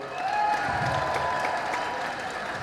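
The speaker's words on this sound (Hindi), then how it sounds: "जनाब शाह साहब के लिए बहुत भरपूर तालियां" Hearty audience applause for Shah Sahab at a speaking event in Quetta, Balochistan, a thick continuous wash of clapping from a crowd, steady and fairly close, with a faint tonal hum underneath.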